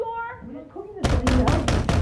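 Firm knocks on a door in a TV drama, five quick, loud raps in a row after a short stretch of a voice speaking.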